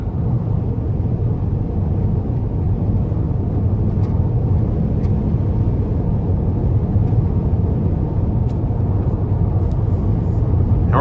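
Steady low road rumble and engine drone inside a 2021 Buick Envision Preferred 2.0 SUV on the move, continuous and even throughout with faint ticks above, no talking.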